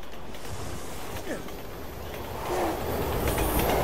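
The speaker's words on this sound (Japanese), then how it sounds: "電車来た、電車来た、電車。" A train passing in the video game Resident Evil 6, rumbling wheels and rhythmic clickety-clack with a brief metallic squeal, fairly loud and building toward the end.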